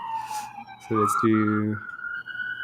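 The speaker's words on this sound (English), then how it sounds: "Oh, you can hear some sirens." A distant emergency siren wails in the background, its rising and falling tones heard faintly behind someone speaking close by.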